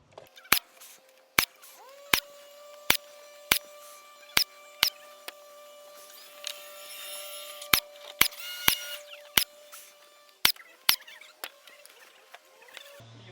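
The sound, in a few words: nail gun shooting stainless steel nails into PVC trim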